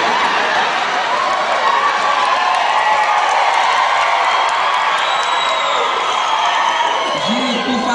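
A live comedy show crowd in Parelhas roars with sustained, loud cheering, whoops and applause that fill the whole stretch without a break.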